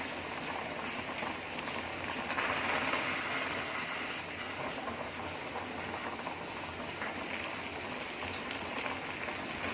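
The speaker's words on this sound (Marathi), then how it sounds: "बघा कसं पाणी उतू चाललंय ते." Water boils hard and bubbles over in a pot while bitter wild yam roots cook, a steady dense seething and crackle with no talk throughout.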